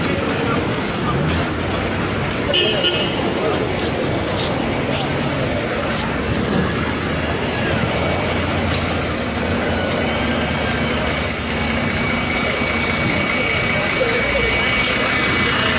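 Road traffic near interchange roadworks in Abobo, Côte d'Ivoire, with a parked bus nearby. A constant loud roar of engines and passing vehicles runs throughout, with a voice talking under the din.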